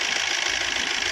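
A 2009 Maruti Suzuki Swift car engine runs steadily, a continuous close hum with an even mechanical buzz and no talk over it.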